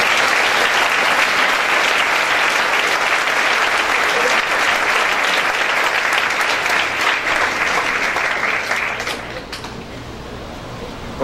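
A church congregation gives a sustained burst of loud applause, a dense, even wash of clapping that holds for about nine seconds before quickly dying away.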